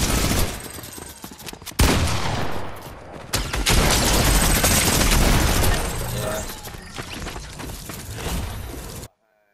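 Rapid automatic assault rifle fire in a multiplayer shooter game, dense loud bursts with short pauses, heavy sustained volleys through the middle, and a voice talking over parts of it.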